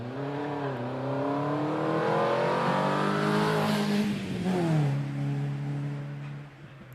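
A race car climbs the Prescott Speed Hill Climb course, its engine loud and close as it revs up through the gears, with clear pitch drops at each gear change and a final downshift before the sound fades slightly.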